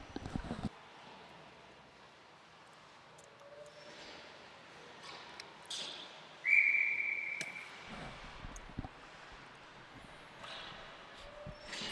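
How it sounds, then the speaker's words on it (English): A referee's whistle cuts through the arena during a junior varsity high school ice hockey game: one sharp, fairly loud blast rising over a low, steady rink hum with faint scattered knocks and shuffles. "forces to get a whistle out of Connor King."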